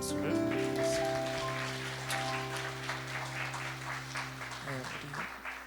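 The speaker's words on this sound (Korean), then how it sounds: "우리 주님께 영광의 박수를 드리겠습니다." A church congregation at a whole-church retreat worship service claps together, a dense steady patter carried over sustained organ or keyboard chords that ring underneath throughout.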